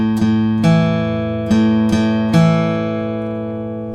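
An intro riff plays slowly on guitar, five evenly spaced picked notes that each ring and fade, with no talking.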